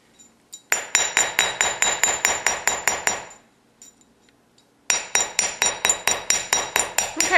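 A metal washer struck around its edge with a hammer to bevel it, a close, loud run of rhythmic ringing metallic blows, then a brief pause and a second steady run of strikes.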